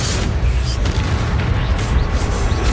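The Incendio fire spell is cast in Hogwarts Legacy, a loud, dense rumbling whoosh of flame that holds steady for a few seconds, close and powerful with no pause.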